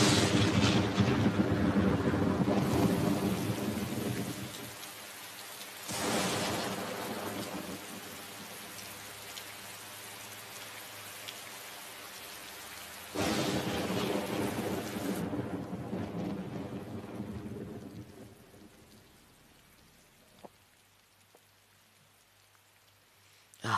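Heavy rain pours steadily while several loud thunderclaps crash and rumble at intervals, the storm easing to a quieter patter near the end.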